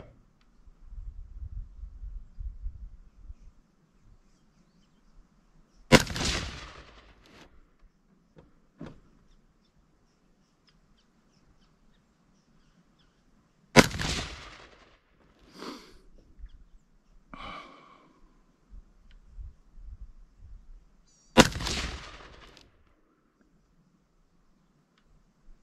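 Rifle shots from a standard-handguard rifle, three sharp loud reports spaced several seconds apart, each with a brief ringing tail over faint outdoor background rumble.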